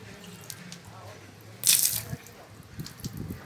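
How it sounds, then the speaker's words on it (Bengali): Water splashing and pouring at a bath while a child is washed, a short loud gush in the middle amid quieter trickles and drips, with faint voices around it. "টাকা এরম করে জল নাও"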